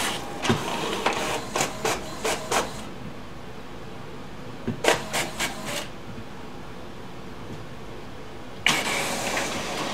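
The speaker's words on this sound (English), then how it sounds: "Now you can see the full speed of the printer." An HP Officejet Pro 8620 inkjet printer running at full speed: bursts of rapid clicking and whirring carriage passes in two clusters, a pause, then a louder continuous mechanical rush as a page feeds through.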